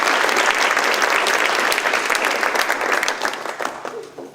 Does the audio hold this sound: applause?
yes